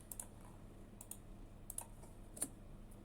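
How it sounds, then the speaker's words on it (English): A quiet run of computer keyboard keystrokes as a command is typed, with irregular clicks and a slightly louder tap near the end, heard up close and alone. "I type kubectl create token for this service account."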